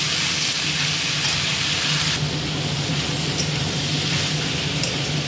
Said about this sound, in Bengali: এবার এটাকে খুব করে কষাবো।